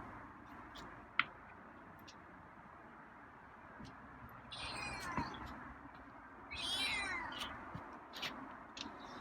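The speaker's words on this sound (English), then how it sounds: "It's kind of a lazy meow." A feral cat gives two soft, drawn-out lazy meows outdoors, a few seconds apart, fairly faint over quiet ambient noise with a single sharp tick early on and no talking.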